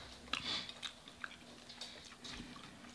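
Close-up chewing of crunchy battered fried catfish or fries at a mukbang meal, soft crisp bites and mouth sounds repeating in an irregular rhythm, with no talk.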